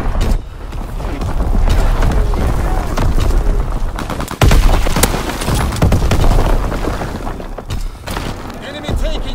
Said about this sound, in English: Firing for full effect.